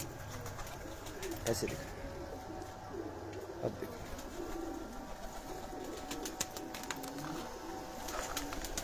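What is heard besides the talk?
pigeons cooing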